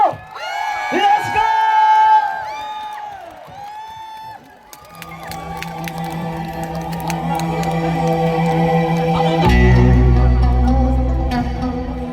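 A crowd at an outdoor cooperative livestock market ceremony cheers, whoops and shouts in loud bursts, with a voice calling over them early on and a sustained amplified music tone swelling underneath later.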